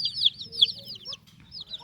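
High, rapid peeping of young Berasa-breed chicks, several overlapping chirps close by, with a low murmur of background noise underneath.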